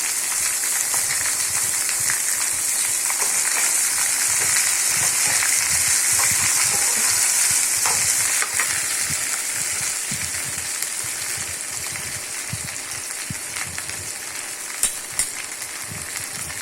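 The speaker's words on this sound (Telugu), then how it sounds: "ముందుగా తరిగి పెట్టుకున్న బెండకాయ ముక్కలు వేసుకోవాలి." Chopped okra pieces fry loudly in hot oil in a pan, a dense, steady sizzle that holds close and strong throughout with faint stirring taps.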